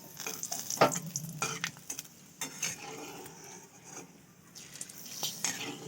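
Curry leaves frying in hot oil alongside sago pearls and peanuts, a soft crackling sizzle with occasional stirring scrapes and a sharp pop near the start, close and fairly quiet.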